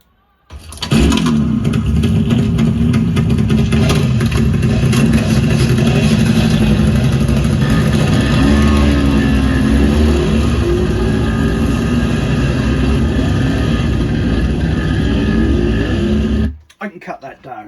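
Layered engine sound effects of a classic motorbike, an old car, a muscle car and a Vespa scooter, a loud continuous drone and rumble that holds steady throughout and then cuts off abruptly.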